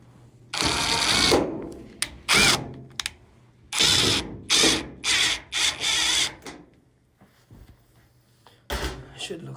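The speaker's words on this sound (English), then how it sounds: "So install these 2 screws back in place." Screws are driven back into the top panel of a GE dryer with a power tool in a string of short, loud, close whirring bursts and pauses, with clattering handling noises between them.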